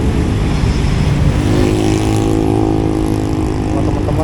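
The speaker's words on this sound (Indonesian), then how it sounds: "Kenceng-kenceng motor ya." Loud, continuous engine roar of motorcycles speeding past close by, a dense rushing drone with no pauses.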